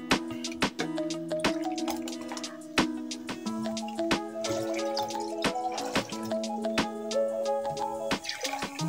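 7 Up soda poured into a glass of falsa juice, giving a steady run of drips, splashes and fizzy crackles over a continuous tonal backdrop, close and moderately loud.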